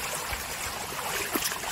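Water flows along a narrow field channel beside old rice paddies, heard briefly as a steady, close rushing wash with no voices.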